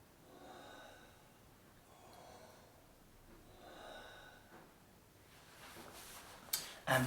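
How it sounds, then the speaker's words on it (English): Deep, continuous belly and chest breathing with no pause between breaths, about three slow in-out cycles heard close and soft, followed by a couple of brief louder sounds near the end. "performing this deep continuous breathing for 20 minutes"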